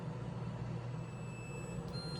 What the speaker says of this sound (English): my timer has gone off.